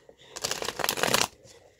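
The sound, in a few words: shuffling a Midnight Magic Mushroom tarot deck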